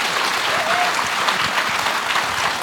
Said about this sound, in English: If you could give both our ladies a wonderful round of applause.